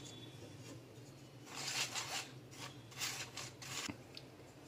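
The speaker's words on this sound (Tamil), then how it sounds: "நாம ஒரு பாத்திரத்துல சலிச்சுக்கலாம்." Flour being sifted through a sieve into a cooking vessel for onion paniyaram, giving soft rasping, rubbing bursts in several close, repeated strokes over a quiet background.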